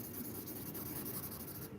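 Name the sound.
writing on paper while drawing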